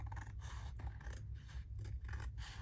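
Scissors trimming a thin sliver of paper inside a hardcover envelope journal, giving a soft, close rasping snip that repeats several times over a low steady background hum.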